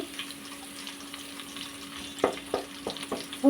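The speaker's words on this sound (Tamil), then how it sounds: "கட் பண்ணி வச்சுருந்த வெங்காயம் கருவேப்பிலை சேர்த்துக்கலாம் பாருங்கள் பூண்டு ஓரளவுக்கு வறுபட்டுருச்சு" Garlic fries with chopped onions and curry leaves in a pan, giving a low steady sizzle with a few spoon scrapes and taps near the end.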